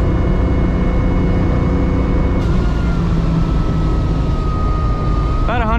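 A supercharged Jeep ZJ engine runs at full throttle with a loud, sustained roar and a steady whining tone, heard from inside the vehicle, with a warbling sound near the end.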